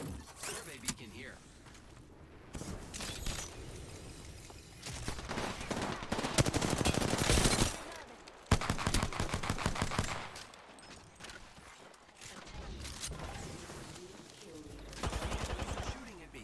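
Rapid gunfire bursts in a video game, loud automatic volleys and sharp shots coming and going between quieter stretches, with voices talking over parts of it.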